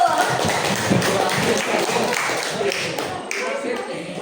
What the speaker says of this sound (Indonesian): Kita beri tepuk tangan dulu untuk Rahayu.